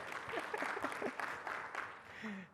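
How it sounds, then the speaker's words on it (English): Brief, fairly faint applause from a conference audience, scattered clapping lasting about two seconds before it fades out. "We can round of applause for the custom metadata types in Process Builder."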